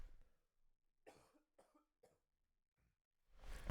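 A few quiet, close coughs come in quick succession, then a pause and a louder, rougher cough at the end.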